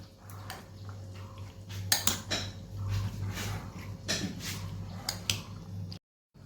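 Chickpeas for chola chaat being mixed in a small, crowded bowl, giving repeated close scraping and clinking of a spoon against the bowl in uneven strokes, with a steady low hum underneath.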